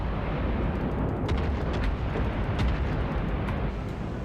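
Warship guns firing in a naval battle game: a dense, continuous roar of heavy booms with scattered sharper blasts, steady and fairly loud throughout.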